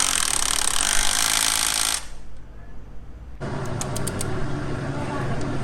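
An impact wrench with a 19 mm socket drives bolts on a Yamaha MT-09 exhaust in two loud, close, sustained bursts separated by a short quiet pause.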